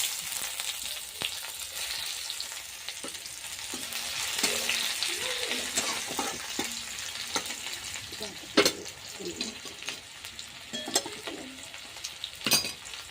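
Cumin, dried chilli and onion frying in a pan with a continuous close sizzle, broken by intermittent stirring scrapes and sharp utensil knocks against the pan.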